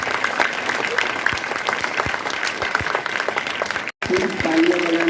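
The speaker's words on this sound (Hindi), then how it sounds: "जोरदार तालियां हो जाए।" A school audience at an Urdu primary school awareness event claps loudly and continuously, dense overlapping hand claps filling the room, with a brief cut partway and a faint tone near the end.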